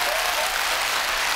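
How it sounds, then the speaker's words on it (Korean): An audience in a KBS hall breaks into dense, even applause, a loud continuous wash of many hands clapping with no voices over it. "이럴 때 박수 치십시오."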